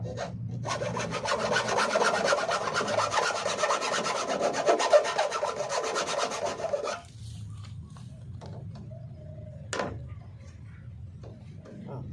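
Steady rough rasping of a file worked across wood, shaping a cut-out hand-opening slot on a DIY truck camper, for several seconds, then stopping; quieter scraping and a brief squeak follow.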